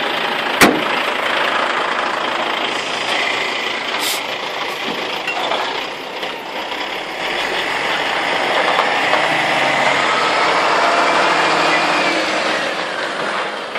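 A log transport truck's diesel engine idles and then pulls away, a steady mid-pitched rumble that swells slightly toward the end, with a sharp knock near the start and no talking.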